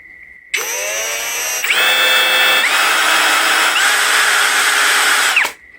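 A TEXUS BULL TX-9633 cordless impact drill with a brushless motor whirs up close, first at low speed and then at a higher pitch as the trigger is squeezed further, before spinning down.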